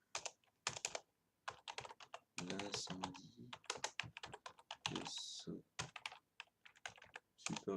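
Rapid clattering keystrokes in irregular bursts, loud and close, with someone talking intermittently over the typing.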